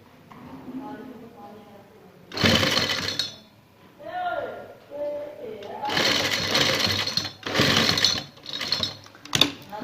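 An electric sewing machine stitches a lace neckline design onto a kameez in several loud, rapid bursts of different lengths, with a person talking in the pauses between runs.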